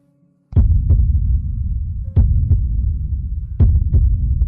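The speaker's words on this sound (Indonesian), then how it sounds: "Kamu memiliki detak jantung." Heartbeat thumping in a steady, slow rhythm, each beat a deep loud double thud, with a faint hum running underneath.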